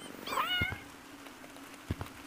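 A cat meows once in a video game's Halloween update, a short rising-falling call near the start, followed by faint game sounds.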